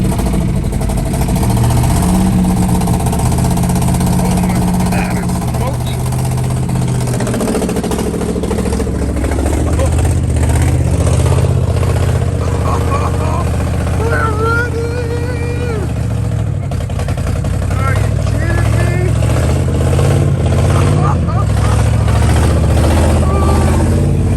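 A 1969 Chevrolet Caprice 427 V8 engine idles loudly with a heavy, steady rumble the whole time, while voices talk over it.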